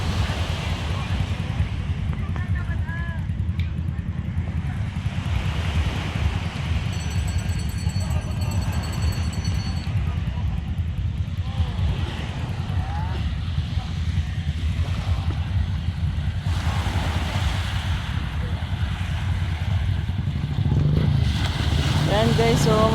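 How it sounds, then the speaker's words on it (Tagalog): Loud, steady roar of wind and strong sea waves at Bolinao, Pangasinan, with rushing broadband noise throughout, voices talking faintly in the background. "so malakas na alon"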